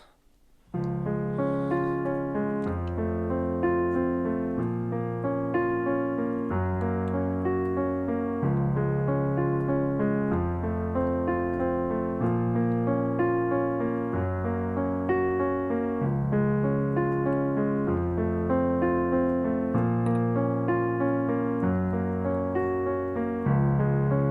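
Piano chords change at an even pace, a cycle of four repeating several times, played cleanly and alone with no voices.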